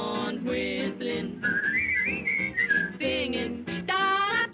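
Someone whistles a cheerful melodic phrase in a 1941 comedy film song, the wavering tune rising and falling over full orchestral and vocal accompaniment.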